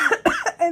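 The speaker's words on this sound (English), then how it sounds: "I still have this cough, which usually comes more you know, when I am talking." A person with a lingering cold gives a few quick, close harsh coughs in a row.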